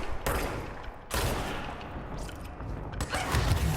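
Sniper gunfire in the video game Control: several sharp, loud shot cracks with noisy tails, arriving irregularly over a rumbling action backdrop, no speech.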